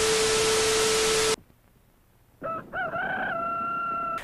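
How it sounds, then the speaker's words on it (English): A rooster in a cereal commercial gives one loud, close crow with rising then sustained harmonic tones, following a burst of hissing static and a short quiet gap. "Just a little rooster house, nothing to be worried about."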